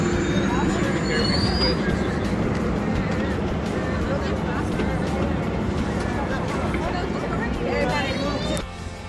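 A double-decker train runs along the seaside, a continuous rolling rumble with faint wheel squeal, heard from inside while people talk over it.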